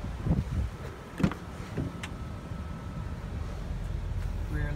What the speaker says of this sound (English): All the power windows work.